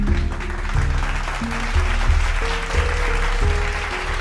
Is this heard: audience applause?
yes